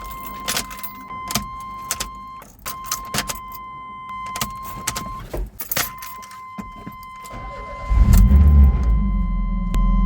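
Keys jangle and clicks sound as the ignition of a 1982–1993 Chevrolet S-10 with a four-cylinder engine is cycled, then the engine cranks and catches into a loud, steady idle near the end.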